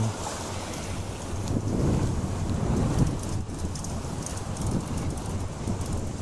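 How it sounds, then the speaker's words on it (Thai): Wind blowing steadily at a seaside viewpoint by the coast, loud buffeting gusts against the microphone over a continuous roar with no talking. "ลมพัดเย็นตลอดเลย"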